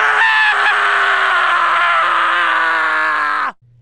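A sustained Japanese-voiced scream of Sonic from the video game Sonic Adventure 2, loud and close with a steady strained pitch, cut off abruptly after about three and a half seconds.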